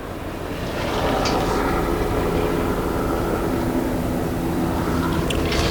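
An airplane flies overhead, a broad droning roar that swells after the first second and holds steady and fairly loud, with no talking.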